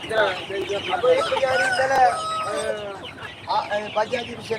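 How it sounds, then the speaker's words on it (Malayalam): Kadaknath black chickens at a market in Badiyadka, Kasaragod, cluck loudly and crow in drawn-out, wavering calls close at hand, with voices murmuring in the background. "ഇത് കരിങ്കോഴികള്"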